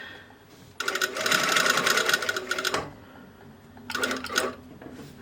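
A sewing machine stitches a garment collar in two bursts of steady, rapid mechanical whirring, a long run followed by a short one, with a quiet pause between them.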